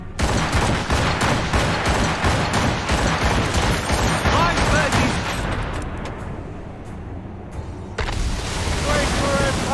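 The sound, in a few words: volley of gunfire in video game Assassin's Creed Rogue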